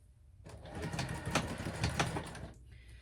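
A sewing machine sews a half-inch seam through a thick clutch bag, stitching starting after a brief pause and running steadily at moderate loudness before cutting off near the end.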